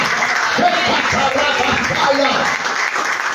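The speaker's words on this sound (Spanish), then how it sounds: "Dale un aplauso" Steady applause from a church congregation, dense continuous clapping with voices mixed in underneath throughout.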